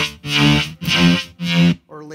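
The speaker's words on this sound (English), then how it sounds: "you can get really dippy, weird sounding, stepping in mud sounds" A buzzy synthesized tone from a guitar synth pedal pulses in three swelling bursts with a slow, wobbling LFO filter sweep, followed by the start of a fourth.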